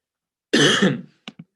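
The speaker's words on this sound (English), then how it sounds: "Apologies, I have a bit of a cough." A single rough, throaty cough-like burst, close and loud, followed by two short, quick coughs.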